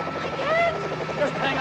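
Military helicopter in an Italian horror film scene atop a roller coaster, a steady whirring rotor drone with wavering engine whine, heard at moderate distance under film music and ambience.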